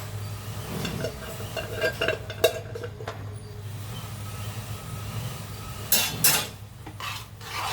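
A spoon stirs and scrapes through ingredients mixed with sesame oil in a pot, giving soft, uneven rubbing and scraping strokes with a few sharper clinks, close and without talk.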